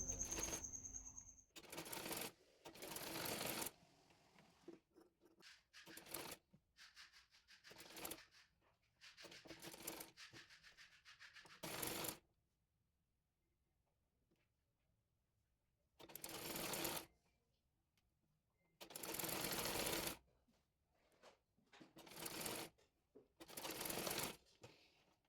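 Sewing machine stitching frock fabric, running in repeated short bursts of fast mechanical whirring separated by near-silent pauses, close and fairly quiet.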